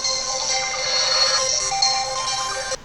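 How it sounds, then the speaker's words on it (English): A mobile phone rings with an incoming call, a bright electronic ringtone melody sounding loud and close for about three seconds before cutting off, with no talk over it. "Got a little phone call."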